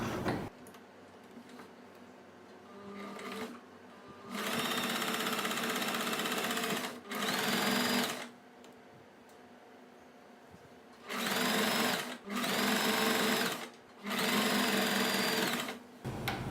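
Close by, a sewing machine stitches a puff sleeve in several bursts of rapid mechanical whirring and ticking, from a couple of seconds to several seconds each, with quiet handling pauses between runs.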